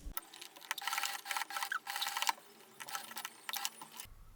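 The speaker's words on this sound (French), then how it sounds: "je vais venir coudre toutes les épaisseurs ensemble" A domestic sewing machine stitches through several layers of a fabric handbag at a reinforced D-ring, running in bursts of rapid mechanical chatter with brief pauses between runs.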